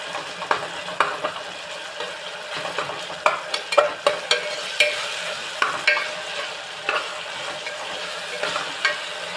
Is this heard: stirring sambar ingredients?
yes